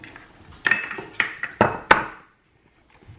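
Two eggs cracked and dropped into a bowl of sugar while making Ghana doughnuts: a run of sharp, close knocks and clinks against the bowl, several in quick irregular succession, then quiet.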